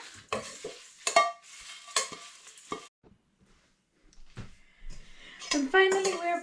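Stinging nettle mixture with salt and pepper being stirred in a bowl, a series of short scraping and clinking strokes with a quiet pause midway, under and between spoken talk.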